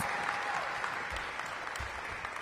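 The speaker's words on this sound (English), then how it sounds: "Let's give Parks and Recreation a big round of applause." A crowd at an outdoor city summer-programming celebration applauds for the Parks and Recreation department, steady dense clapping filling the whole stretch at moderate volume with no voices on top.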